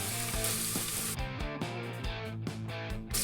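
Green pepper tossed into a pan of onion and garlic sizzles steadily and loud, with a few soft stirring scrapes over the continuous frying hiss.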